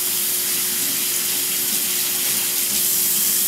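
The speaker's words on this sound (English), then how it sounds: "bring out our parts, rinse them, and then put them on a towel to dry" Bottle parts are rinsed under a steady stream of running tap water, a loud continuous hiss and splash close by with no talking.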